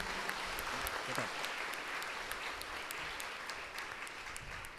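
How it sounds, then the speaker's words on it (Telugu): A church congregation at a priestly ordination applauds the new priests with a steady, dense round of clapping that holds evenly for about five seconds, heard from within a large crowd. "గట్టిగా చప్పట్లు కొడదాం అందరం కలిసి"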